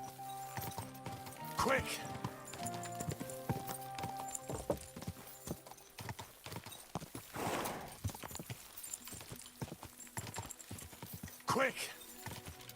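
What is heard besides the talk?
horse hooves in a medieval video game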